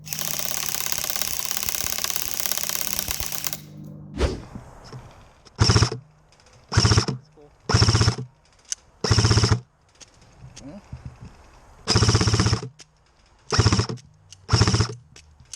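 FN Herstal M249 Para airsoft gun firing in rapid full-auto bursts, several short loud buzzing volleys separated by pauses, after an opening stretch of continuous mechanical whirring.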